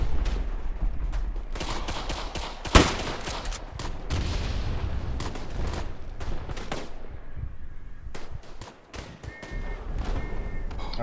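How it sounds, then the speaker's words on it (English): Dense World War I battlefield fire in the game Tannenberg, with artillery blasts and rapid rifle and machine-gun shots crackling continuously, one especially loud close boom, and distant thuds rolling underneath. "I'm dropping artillery"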